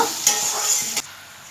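Potatoes frying in a pan for a vegetarian Bengali lunch, a steady close sizzle with a couple of short scraping stirs, no talk.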